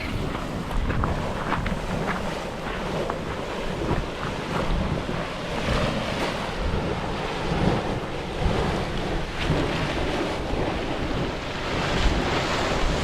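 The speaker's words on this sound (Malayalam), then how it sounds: "ശരിക്കും തിളച്ച് പൊങ്ങുന്ന സൗണ്ട് കേൾക്കാട്ടോ." Geothermal hot water boiling and splashing at the Wairakei Terraces in New Zealand, a steady, loud, continuous rushing and bubbling roar with gusty wind noise, unbroken for the whole stretch.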